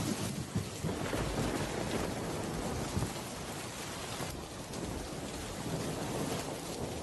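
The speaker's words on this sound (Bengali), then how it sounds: "এদিকে তো বৃষ্টি থামারও নাম নেই।" Heavy rain pours steadily over a cartoon village, a dense continuous hiss with low rumbles of thunder rolling underneath at moderate volume.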